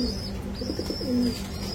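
Pigeons coo softly in a few short, throaty phrases against a faint background hum, with no talking.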